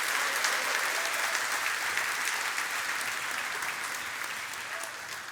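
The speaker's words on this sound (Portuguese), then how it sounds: "Dá uma salva de palmas ao Senhor então." A church congregation claps together as an offering of praise, sustained and even applause from a sizable crowd that holds strong throughout and tapers only slightly at the close.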